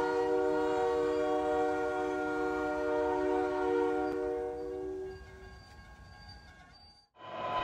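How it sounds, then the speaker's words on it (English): A train approaching a railroad crossing sounds a long, steady horn over rumbling wheels, then the horn stops and the train noise trails off before a brief silence. "look and listen for approaching trains before crossing the tracks"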